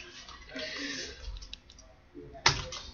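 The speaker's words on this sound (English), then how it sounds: "Stop typing things." Computer keyboard clicks from someone typing during a modded Minecraft Tekkit session: scattered soft taps, then one sharp louder click near the end, with faint voices in the background.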